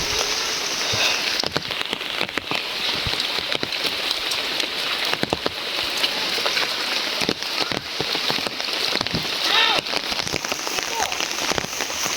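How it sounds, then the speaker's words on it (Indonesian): Light rain falls on a village, a dense, steady patter of drops on nearby surfaces that continues without a break. "Hujannya nggak terlalu deras, teman-teman, cukup untuk melicinkan jalan ya."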